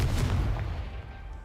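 A Confringo fire spell explodes in the Hogwarts Legacy video game as a single booming blast that rumbles low and fades over about a second and a half, with no talking.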